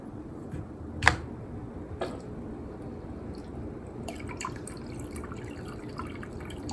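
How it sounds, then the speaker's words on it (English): Water circulates through a PC water-cooling loop built for an i9-14900KS, with the pump running, giving a low, steady wash of flow noise, one sharp drip-like tick near the start and light scattered ticks later on. "There is water flowing."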